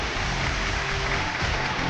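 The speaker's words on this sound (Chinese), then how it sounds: "掌声有请这一对，有请。" Audience applause for a couple called on stage at a Chinese relationship TV show, a broad steady wash of clapping filling the short stretch at moderate level with no talk over it.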